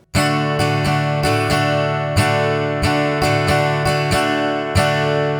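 An acoustic guitar strums chords in a swung shuffle pattern, long-short strokes repeating in a lilting rhythm, loud and close with no voices.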